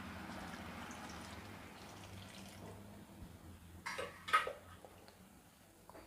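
Water is poured into sambar in a pressure cooker in a home kitchen, a quiet stretch of faint clinks before a brief, louder splash and trickle near the end.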